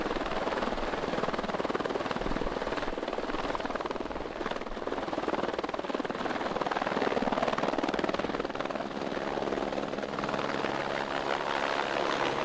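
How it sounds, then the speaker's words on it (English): Loud, steady helicopter rotor noise from very close, a continuous dense roar with thudding blade pulses throughout and no voices. "I can really feel the pressure from the helicopter here."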